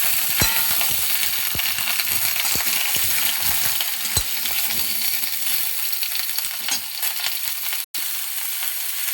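Sweet mango pickle sizzling and crackling in a pan, loud and steady throughout, with scattered spoon scrapes and clinks as it is stirred and a brief break near the end.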